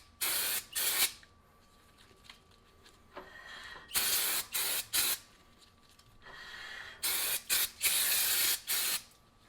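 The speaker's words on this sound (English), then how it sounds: "I'm going to give it just one more quick spray down with some brake cleaner here." Brake cleaner sprayed onto the front brakes of a 2011-2017 Ford Explorer in short, loud hissing bursts, two quick sprays, then a pause, then a run of closely spaced bursts, heard near and alone.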